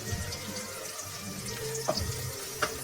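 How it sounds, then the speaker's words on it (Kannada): Curry leaves sizzle in hot oil in a pan while a toor dal upma is cooked, a steady close crackling hiss with a few sharper spits. "ಕರಿಬೇವಿನ ಸೊಪ್ಪು ಹಾಕ್ತಿದ್ದೀನಿ. ಇದೆಲ್ಲ ಫ್ರೈ ಆಗಲಿ."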